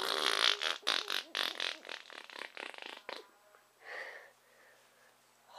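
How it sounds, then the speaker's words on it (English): A big, loud fart rips out as a rapid series of sputtering bursts lasting about three seconds, close to the microphone, followed by quieter breathy trailing noises. "Holy, that was a big fart."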